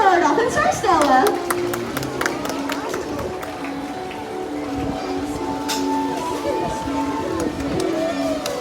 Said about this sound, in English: Let's go ahead and give a big round of applause for our dolphin star, Stella.